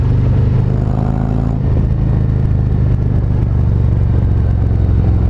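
A 2019 Harley-Davidson Road Glide Special cruises on the road with a loud, steady low-pitched engine rumble and heavy wind buffeting. A slight shift in tone about one and a half seconds in suggests a gear change.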